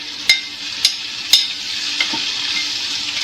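Metal ladle stirring and mixing a home-cooked dish in a pan, with a few sharp scraping clacks against the pan over a steady sizzle, close and fairly loud.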